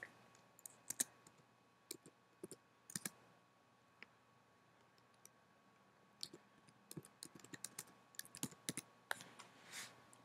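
A full name is typed on a computer keyboard in quick irregular bursts of light key clicks, close and fairly quiet, with short pauses between runs and no talking.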